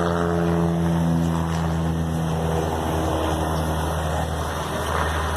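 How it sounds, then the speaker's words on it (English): A propeller plane takes off at Elstree Aerodrome, a steady droning engine with layered harmonic tones that holds loud and even throughout, with no voices over it. "Another plane going off."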